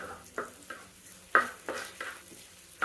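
Onions sautéing in a pan for a Kerala fish head curry, sizzling steadily while a spatula stirs and scrapes in several sharp, regular strokes, close and clear with no talking.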